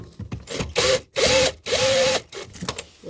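A bolt is loosened while a car air filter is changed, with three loud ratcheting bursts close by, separated by short pauses and followed by a few lighter clicks.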